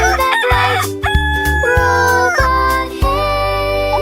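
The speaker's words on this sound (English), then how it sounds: "The rooster crowed with pure delight." A rooster crows several times in a cartoon nursery-rhyme scene, each call loud and drawn out over a sustained musical backing, with no speech.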